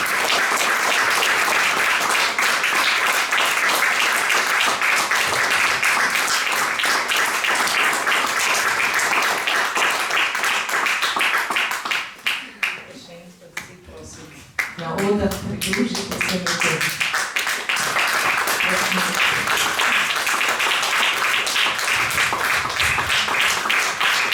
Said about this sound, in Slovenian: Prosim, še en velik aplavz.